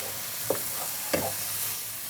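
Spice paste with salt fries in a pan while Bengali curry with shol fish and drumsticks is cooked, a steady soft sizzle broken by two brief stirring scrapes.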